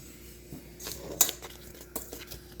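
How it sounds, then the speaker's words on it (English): Butterscotch brownie mixture is whisked in a bowl, producing a few scattered, close metallic clinks and scrapes of the whisk against the bowl, quiet between strokes, with no talking. "I need to mix this together with my whisk"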